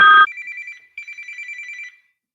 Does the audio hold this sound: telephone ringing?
yes